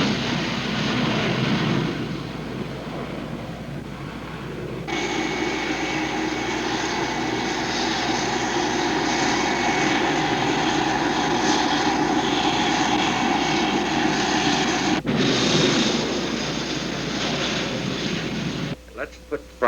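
A fixed-wing airplane engine roars steadily during takeoff, a loud sustained drone that swells abruptly and holds for about ten seconds before cutting out, with faint crackling on the radio.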